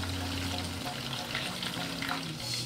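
Beer-battered fish sizzles steadily as it fries in a nonstick pan, a close, continuous crackle of hot oil with a faint low hum underneath.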